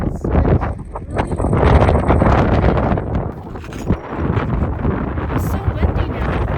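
Strong wind buffets the microphone in a loud, continuous rumbling roar, with a voice talking over it throughout.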